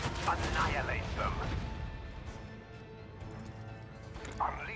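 Macro cannons fire in a video game: a faint cluster of booming shots at the start, a rumbling decay, then another distant blast near the end, all set low under a steady background hum.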